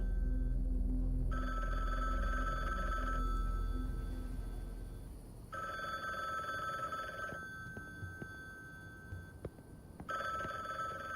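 A telephone rings in bursts from upstairs in the video game Timeless Mansion, each trill lasting a couple of seconds with pauses between, fairly quiet and muffled under a low background hum.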